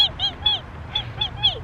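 A person imitates bat chirps with a rapid series of short, high, squeaky arched chirps in quick bursts, fairly close and moderately loud, with a brief pause midway.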